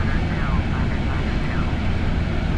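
Concorde jet engines throttled back during descent in Flight Simulator X, a steady broadband roar with low rumble held at a constant level throughout, with a voice talking over it.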